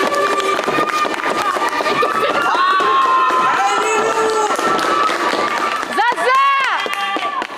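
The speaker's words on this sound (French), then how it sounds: "On applaudit tous les soirs ici?" Neighbours in Marseille cheer, whistle and shout from balconies during the coronavirus lockdown, a loud, continuous mix of voices and noise echoing between buildings, with a shrill whistle near the end.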